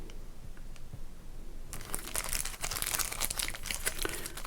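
Close crinkling of a 1988 Score sports card pack wrapper, quiet at first, then a burst of crisp crackling and tearing crunches of the plastic foil.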